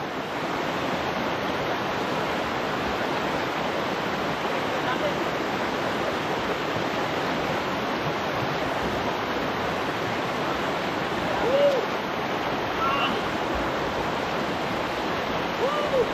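A river flowing in the open, a broad, steady rushing wash of water that stays constant and fairly loud from start to end, with a faint brief voice briefly rising near the end.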